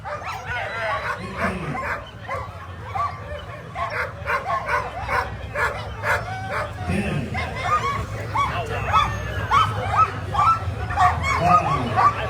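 Sled dogs bark and yip excitedly at the start of the Fur Rondy Open Class World Championship race on 4th Avenue, with rapid overlapping barks and whimpers and a commentator talking over them.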